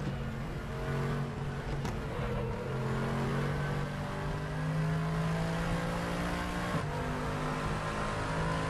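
Mercedes-Benz SLS AMG GT3 race car engine howling at Monza in the RaceRoom racing game, a loud sustained high-revving drone with brief gear-shift dips and no talk.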